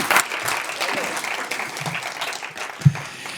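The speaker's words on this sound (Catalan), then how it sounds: "Poden aplaudir una mica també, si volen." Applause from a Catalan conference audience at a talk on the state of fishing, a steady patter of many hands with a few louder claps standing out near the end, fairly close and even in level.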